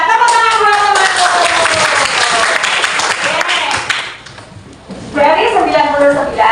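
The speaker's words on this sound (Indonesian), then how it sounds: "Tepuk tangan buat teman-teman." Children's voices mix with a short burst of clapping, a classroom crowd applauding briefly, with speech over it.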